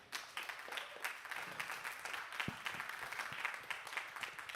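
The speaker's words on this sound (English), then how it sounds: "please let's give these wonderful gentlemen a round of applause" A hip hop film festival audience claps for panelists at a Q&A, a fairly faint, uneven patter of individual hand claps from a modest crowd, sustained and slightly irregular.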